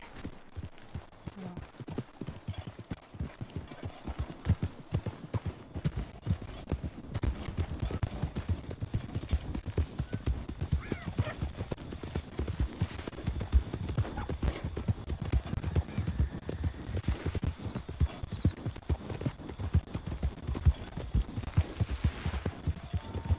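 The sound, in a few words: horse walking with clip-clop hooves and neighing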